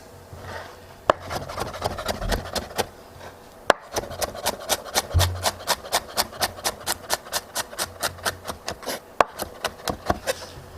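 Knife finely chopping red onion on a board for bruschetta, a fast, even run of crisp taps that quickens into a steady, close rhythm after a brief pause, with no voices.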